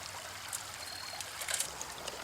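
A slow creek trickles past built-up rocks at a gold-prospecting site in Buchanan, Georgia, a soft, steady babble with small splashy ripples, faint and close.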